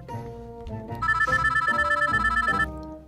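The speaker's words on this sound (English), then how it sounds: "I call him on the phone." A telephone ringtone plays loud and alone, a rapid trilling ring lasting a couple of seconds between short melodic notes.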